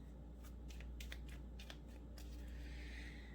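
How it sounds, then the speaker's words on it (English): Tarot cards are shuffled softly and quickly, a series of light riffling flicks close by over a low background hum. "I'm going to shuffle a little bit"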